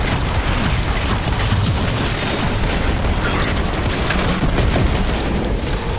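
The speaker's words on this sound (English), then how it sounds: "this is a grenade launcher" Grenade launcher explosions in Destiny 2 sound as a continuous, loud wall of booming blasts and rumble with no pause, dense and close for the whole stretch.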